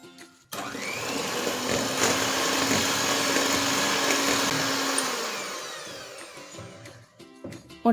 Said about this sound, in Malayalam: മുട്ടയും നന്നായി ബീറ്റ് ചെയ്തു.